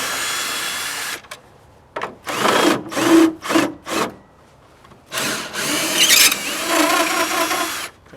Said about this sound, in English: First thing you're going to be doing is removing these bolts to take off this housing.